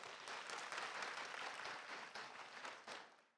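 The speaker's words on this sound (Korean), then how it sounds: "여러분 기회를 다시 한번 주기를 같이 희망하신다면 박수 한번 보내주십시오." Steady applause from an event audience at a live recruitment show, dense clapping sustained for a few seconds and then tapering off at the end.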